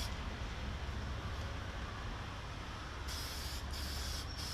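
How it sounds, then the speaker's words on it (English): Toner lacquer sprayed onto a Zenith 5-S-29 radio cabinet outdoors in a light wind, a steady close hiss of the spray gun running continuously, with a brighter burst and brief pauses near the end. "I'm going to spray just a little closer than 12 inches"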